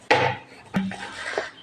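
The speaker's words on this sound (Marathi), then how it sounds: "तवा मी तापायला ठेवला, तेल टाकले थोडंसं" A griddle pan (tava) is set down on a home kitchen stove with a sharp metallic clank, then a second softer knock and scrape of metal against the burner, close and loud with no talking.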